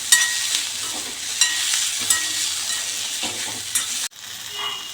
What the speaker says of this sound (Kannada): ಟೊಮೆಟೊನ ಹಾಕ್ಕೊತಾ ಇದ್ದೀನಿ ಫ್ರೈ ಮಾಡೋಕ್ಕೆ.